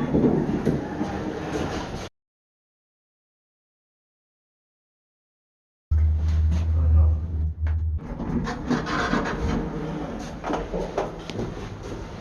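Elevator fitted with an Ecodisc machine carrying a rider, heard as a steady low rumble and rattling hum from inside the car, with a break of silence midway before the rumbling resumes, mechanical clunks and shifting noises near the end.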